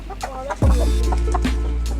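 Chickens clucking close by, a few short clucks over a loud, steady low rumble of background noise.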